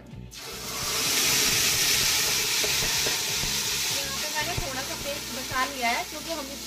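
Cumin seeds with a tomato, green chili and ginger paste hit hot oil in a pan, a loud steady sizzle and spatter that swells after the first moment and holds throughout, with some stirring and a voice talking over it.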